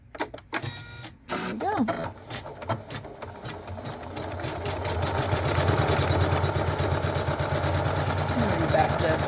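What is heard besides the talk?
Janome Memory Craft 9850 sewing machine running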